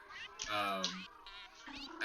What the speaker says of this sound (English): I had Conker's Bad Fur Day sound effects downloaded, and there's cat characters in that game, so there's a ton of cat noises